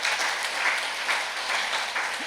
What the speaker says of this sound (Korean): 그럼 박수를 좀